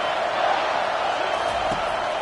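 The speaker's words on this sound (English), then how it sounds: "This crowd bringing the energy and noise early." A stadium crowd at a USC vs Clemson college football game makes a loud, continuous roar of cheering and voices, a dense wall of noise that holds steady throughout.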